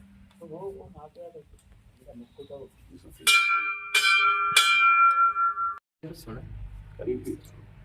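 A hand-held bell at a 400-year-old Rajarajeshwara temple rings out in a few bright, clanging shakes that linger briefly, coming between stretches of nearby talk.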